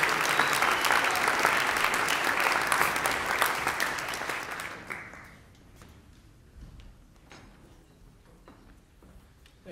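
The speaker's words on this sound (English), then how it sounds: "Please give him a round of applause." Concert audience at a university jazz repertory ensemble performance applauds the student conductor, a dense steady clapping for about five seconds that then fades into scattered claps and a quiet room.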